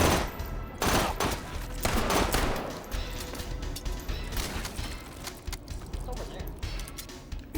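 Repeated gunfire from a firearm modeled on a Goldeneye 007 N64 weapon in the VR shooter H3VR, loud bursts early on thinning to scattered shots, with speech and mechanical handling noises mixed in.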